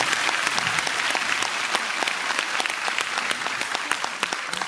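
Audience applause at a jubilee concert marking ten years of a dance club in Razlog, Bulgaria: dense, steady clapping from a large hall crowd, loud and sustained throughout with sharp individual claps standing out.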